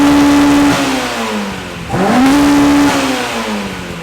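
A Honda-powered drift car engine revs loud and close, climbing twice in sharp blips and easing back between them, with no voices.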